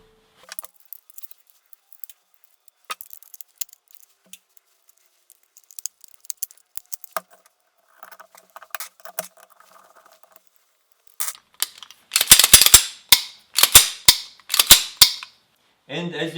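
A 1911 pistol is put back together by hand, with metal parts clicking and scraping. Sharp snaps follow, closing in a rapid cluster of loud slide and action clacks near the end.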